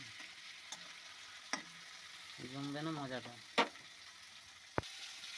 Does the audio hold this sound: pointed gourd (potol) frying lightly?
yes